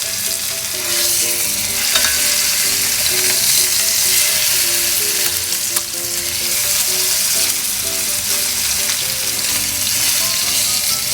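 Beef fillet for beef Wellington searing on its ends in a hot pan, a loud, continuous close-up sizzle and crackle holding steady throughout with no speech.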